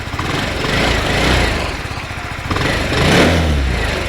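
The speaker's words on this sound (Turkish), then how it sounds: "Hatta gazını da açayım hafif." A Motolux CEO 110 motorcycle engine runs close by with a muffled, low exhaust rumble from a quiet exhaust, revving up gently twice between steadier idling.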